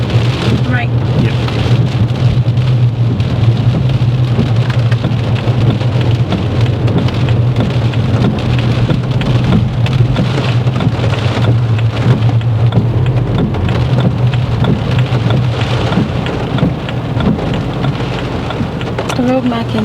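Heavy rain drums steadily on a car during a driving test, a dense continuous hiss over a low engine and road hum throughout, with occasional voices in the cabin.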